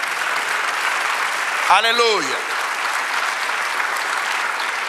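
A church congregation claps steadily through a Spanish-language sermon, and one voice briefly shouts a joyful exclamation over the crowd noise.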